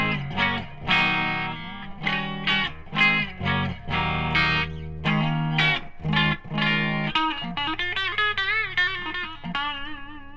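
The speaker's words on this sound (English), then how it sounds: "And when you take them out of phase, you get this." Electric guitar in the middle pickup position with the humbuckers out of phase, distorted: thinner, nasal chord stabs and riffs that end in a held, wavering bent note, played alone.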